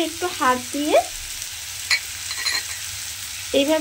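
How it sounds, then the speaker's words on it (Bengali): A thinly sliced medium onion, crumbled by hand, sizzles steadily in hot oil in a pan for a vegetable curry, with close, continuous frying hiss and a few scraping stirs at the start and end. "এবারে আমি এর মধ্যে দিয়ে দেব পেঁয়াজ।"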